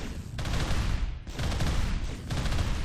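Turret gunfire in the RimWorld 40k colony game, dense rapid bursts of automatic fire in three roughly one-second volleys with brief gaps, loud and close.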